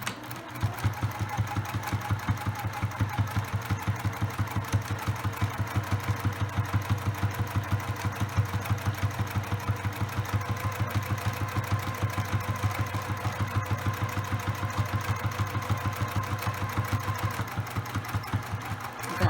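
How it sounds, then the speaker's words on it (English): A sewing machine runs steadily for a long stretch, its motor humming with a rapid, even mechanical rattle of stitching and no pauses. "Okay, I'm at the sewing machine."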